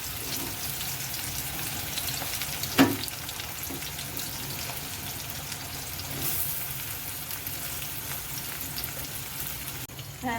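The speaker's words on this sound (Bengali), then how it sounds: "এবারে আমি পেঁয়াজ কুচিটা প্রথমে দিয়ে দেবো।" Chopped onions frying in hot mustard oil in a pan give a steady, close sizzle throughout, with a brief clatter of stirring near the start.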